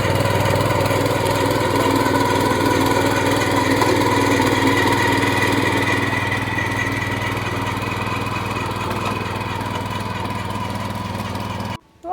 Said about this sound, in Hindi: आज अपना ट्रैक्टर लेके आए थे हम ना, तो 4 खेत जोत ली है यहाँ पे हरदीप ने